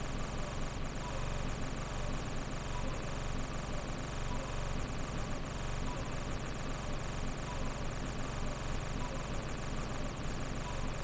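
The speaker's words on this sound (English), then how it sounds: "It sounds a bit like a machine gun going off." Mangar's Mindblade spell from The Bard's Tale video game blasts a harsh, dense, unbroken roar like rapid machine-gun fire, loud and sustained throughout.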